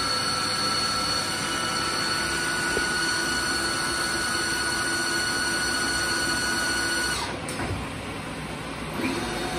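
A HAAS VF3 milling machine's gearbox runs steadily in high gear, a loud continuous mechanical whine and hum holding throughout, with a brief dip near the end; no voices.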